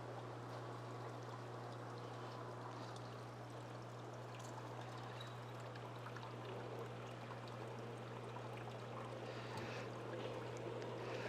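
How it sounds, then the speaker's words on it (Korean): A Hanil IP-210 aquarium water pump motor hums steadily with a constant low drone under continuous watery rushing and gurgling as it drains a turtle tank, unchanging throughout. "지금 모터가 켜져 있는데 생각보다 이렇게 소리가 크게 나진 않죠."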